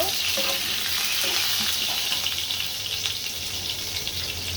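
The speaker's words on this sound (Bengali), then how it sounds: "প্রথমে আমি আলুগুলো ভেজে নিচ্ছি লবণ মাখিয়ে।" Salted potatoes fry in a pan with a loud, dense, steady sizzle that fills the whole stretch, while faint brief voice fragments surface early on.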